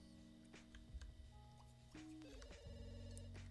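Telephone ringing in The Sims 2, faint electronic rings with a short melodic pattern, sounding alongside quiet game sounds and a voice talking.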